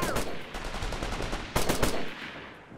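Rapid automatic gunfire from the military shooter Operation Flashpoint: Red River, loud close bursts of rattling shots followed by a second heavy burst after a brief lull, with no voices.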